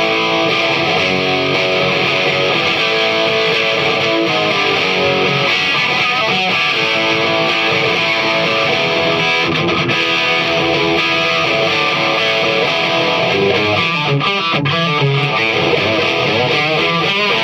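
A Marshall AFD100 guitar amp on its number 34 setting gives a thick, heavily distorted electric guitar tone, played continuously and loudly throughout with no talking.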